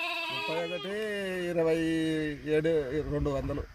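Nellore Jodipi sheep and lambs at a farm purchase bleat in wavering, overlapping cries that run almost continuously, loud and close, with more voices joining toward the end.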